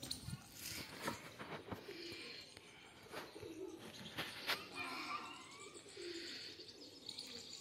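Pigeons coo and chirp around a cage where they perch, some sitting on top of it. The calls are soft, repeated and fairly close, with faint background chatter and children playing in the distance.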